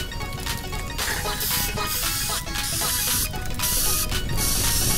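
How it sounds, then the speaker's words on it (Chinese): Yellow spray paint hissing from a can in a bootleg Minecraft game, a steady broadband spray broken by short sharp bursts and mechanical clicks, loud and close throughout. "就那个黄色喷雾啊"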